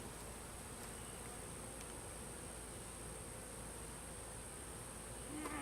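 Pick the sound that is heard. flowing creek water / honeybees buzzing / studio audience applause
honeybees buzzing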